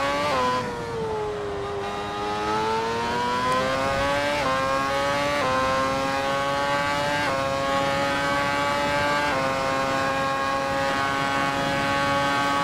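A Ferrari LaFerrari hybrid supercar at speed on a circuit lap, its engine note climbing steadily through the gears with several brief upshift breaks, loud and sustained, with no speech.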